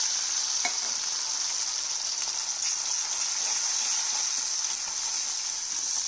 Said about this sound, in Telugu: పోపుని ఎర్రగా వేయించుకున్నాం